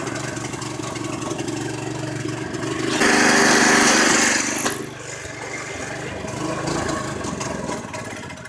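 A Predator 212 small engine on a golf cart build, with a carburetor needing cleaning, runs unevenly, swelling to a louder burst mid-clip before settling back to a rough, steady chug.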